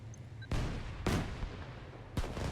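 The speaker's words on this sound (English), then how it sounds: "Enemy artillery incoming." Artillery fire from the war strategy game Systemic War: three heavy booming blasts, each a sharp loud onset with a rumbling tail, spaced unevenly over a low continuous battlefield drone.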